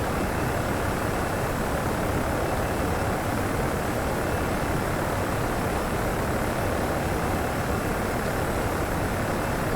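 An Airbus A318/319 in the Prepar3D flight simulator rolls for takeoff, its jet engines a constant, dense broadband roar that stays loud and even throughout with no change in pitch.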